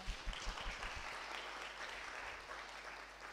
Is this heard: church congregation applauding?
yes